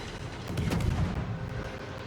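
Heavy cruiser guns boom in a naval battle in World of Warships, a dense rumbling barrage of overlapping blasts rolling on for about two seconds, loud and continuous with no voices.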